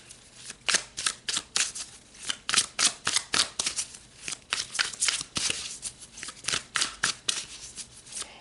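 Tarot cards shuffled by hand, giving a quick run of crisp riffling bursts, many in an uneven rhythm, close and clear with no talking.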